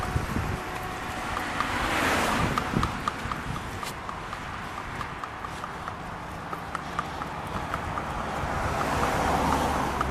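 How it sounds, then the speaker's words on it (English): Highway traffic on Interstate 75 rushes past a walker crossing over it, a steady roar of passing cars mixed with heavy wind buffeting the microphone, with footsteps tapping through it. "That's what all the car noise is."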